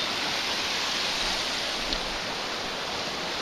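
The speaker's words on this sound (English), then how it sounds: "This little creek here. It only flows like this whenever we get a lot of rain." A creek swollen by heavy rain rushes steadily, a constant close hiss of flowing water with no voices.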